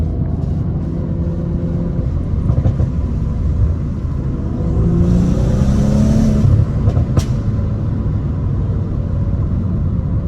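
A Stage 2 tuned BMW F30 with 100,000 miles rumbles steadily from inside the cabin, with a rising rev and a couple of sharp exhaust pops and crackles near the middle and at about seven seconds.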